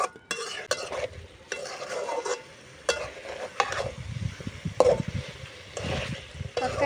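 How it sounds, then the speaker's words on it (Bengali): Chicken legs and potatoes are stirred and fried with spices in a pan. A spoon scrapes and clatters at an uneven rhythm over a continuous sizzle, fairly close and loud, with no talking. "এখন মশলার সাথে সব কিছু নাড়াচাড়া দিয়ে কষিয়ে নেব ভালো করে।"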